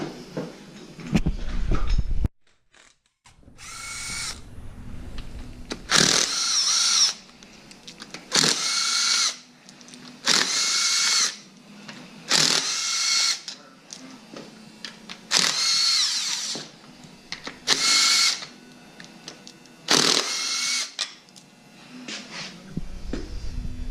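Power tool removing the timing chain cover on a Trans Am WS6 engine: loud whirring bursts of a drill or impact driver repeat about eight times, separated by short pauses with clinks and handling noises.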